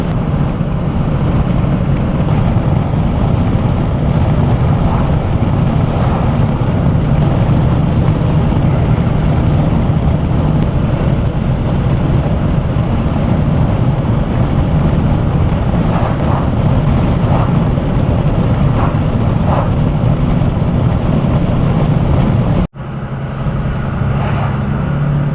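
A 30-year-old truck hauling heavy equipment drones along in a steady, loud, unbroken engine and road rumble from inside the cab, dipping sharply just before the end, with no voices.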